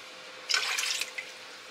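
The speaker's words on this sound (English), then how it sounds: "We're going to add half a cup of water." Water poured into a jar for a batch of bruschetta, a short splashing pour of about half a second, fairly close and clear, with a couple of small trailing drips.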